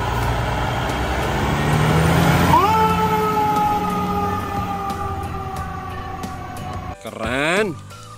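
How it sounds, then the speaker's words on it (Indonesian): A toy fire truck plays a loud electronic siren with steady wailing tones, sweeping in pitch near the end, over a noisy background. "Mobil truk pemadam kebakaran."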